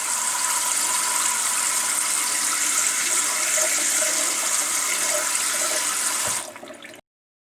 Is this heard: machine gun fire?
no